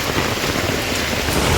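Heavy rain pours down steadily in Panvel, a dense, even hiss of downpour drumming on surfaces, loud and continuous with no voices.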